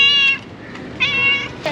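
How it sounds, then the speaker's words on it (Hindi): A cat meows twice up close, two clear, drawn-out calls separated by a short pause, with a brief third cry starting at the very end. "और हमेशा की तरह वापस से ये बिल्ली मुझे मिल गई है।"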